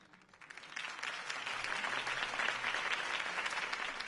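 A video game crowd breaks into applause that swells in quickly and holds at a steady, dense clapping roar, heard from a little distance.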